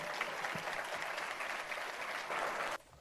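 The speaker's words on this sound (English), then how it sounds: "Let's give one more round of applause to Los Cien" Distant, faint applause from a community event audience, an even wash of clapping that swells slightly near the end before cutting off abruptly.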